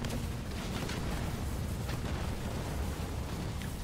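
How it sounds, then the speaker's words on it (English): Tanks fire on defensive turrets in the strategy game Halo Wars 2, heard as a steady rumbling battle bed with scattered muffled booms and pops, moderately quiet and continuous. "Turrets are getting picked off by the tanks."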